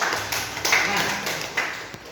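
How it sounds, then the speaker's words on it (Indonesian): Applause from an audience at a teachers' training session, a short burst of hand clapping that fills the room, with some talk over it. "tepuk tangan lagi"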